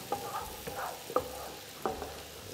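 A spoon stirs vegetables and onion cooking in a pan for sautéed vegetable rice, giving a few soft scraping strokes over a light frying sizzle, close and quiet with no speech.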